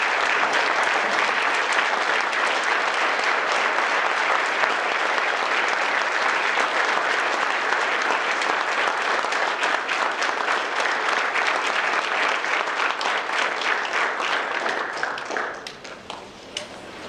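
A standing audience at a recognition ceremony delivers sustained, full applause for over fifteen seconds, steady and dense, then thins out and fades near the end.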